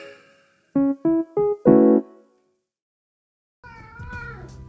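A talkative cat meows four short times in quick succession, close and clear, then after a pause lets out a longer, wavering meow.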